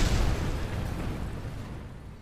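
A fuel tank explodes in Kerbal Space Program: a loud, deep boom that hits at once, then fades into a rumbling roar that lasts about two seconds, with no voices.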